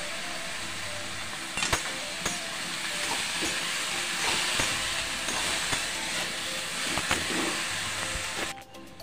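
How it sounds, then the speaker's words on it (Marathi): Chopped eggplant and potatoes sauté in a pan for a dry aloo-baingan dish, giving a steady broadband hiss and sizzle with scattered sharp clicks and clatters of stirring throughout, no voices. "त्यानंतर आपल्याला त्यात सर्व चिरलेले वांगे आणि बटाटे टाकून घ्यायचे आहेत आणि परतून घ्यायचे आहे।"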